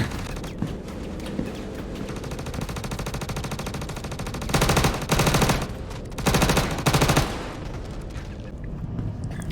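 Automatic gunfire in the Star Citizen video game, a continuous rattle of shots with two louder sustained bursts of heavy fire midway, dense and close throughout.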